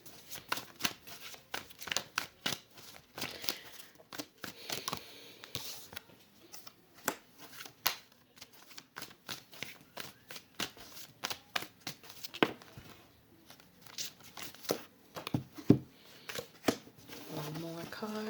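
Tarot cards shuffled by hand in quick, uneven riffles and slaps, a dense run of crisp clicks and flutters that continues at close range for the whole stretch.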